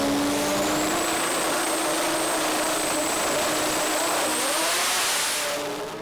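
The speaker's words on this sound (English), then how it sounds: "on the start line, you just hear them spool them up and the way they just launch." Pro FX drag race cars spool up loudly at a drag strip start line and launch, a sustained, dense engine roar with rising whine that holds at full volume before tapering slightly at the end, with no talk.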